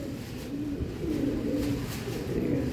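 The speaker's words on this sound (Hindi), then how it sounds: "जोड़ा नंबर 2 है, उसी घर का ही पेयर है, गोल्डन कबूतर है तस्वीर वाला" A golden Ferozpuri pigeon with tasveer markings coos in low, steady, throaty bursts, repeating close by at a moderate level over a faint background hiss.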